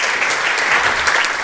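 Applause from a church congregation at a Tuesday Bible service, a dense, steady wash of many hands clapping at once, fairly loud and close, with no talking over it.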